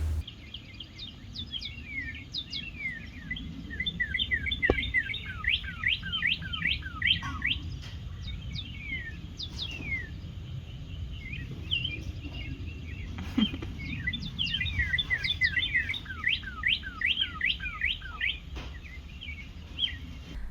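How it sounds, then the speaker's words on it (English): A small gray bird perched in a tree repeats quick bright chirps in bursts and short trills, fairly close and clear over a low outdoor rumble. "a gray bird like the one I filmed chirping in the tree"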